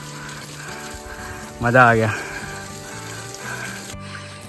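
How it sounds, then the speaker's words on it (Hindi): Fast-flowing water in a mountain stream rushes and hisses steadily, with a brief excited voice cutting in partway through. "बहुत फास्ट आ रहा है पानी"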